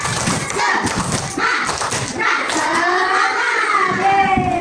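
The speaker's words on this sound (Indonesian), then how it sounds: "Mari kita tepuk semangat dulu ya" Children in an Islamic primary school classroom do a rhythmic spirit clap, a quick patterned series of claps and thumps in a group, with young voices chanting and calling out alongside.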